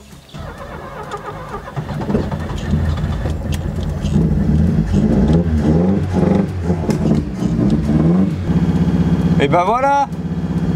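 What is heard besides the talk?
old Ford car engine running and revving after 29 years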